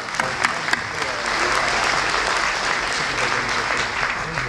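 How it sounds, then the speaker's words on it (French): An audience at the Gérardmer Festival closing ceremony breaks into applause after a few scattered claps, building into sustained, full clapping from a sizable crowd. "On peut les applaudir s'il vous plaît."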